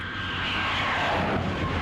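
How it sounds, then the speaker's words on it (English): An F-94C Starfighter jet aircraft takes off from Otis Air Force Base near Cape Cod, Massachusetts, a loud, sustained engine roar that swells slightly and holds steady. "an F-94C Starfighter took off from Otis Air Force Base near Cape Cod, Massachusetts"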